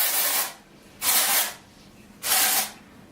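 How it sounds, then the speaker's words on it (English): Two bursts of dry shampoo aerosol sprayed onto hair, each about half a second long, close and loud, with quiet pauses between them. "So I take my dry shampoo and I'll just spray it there"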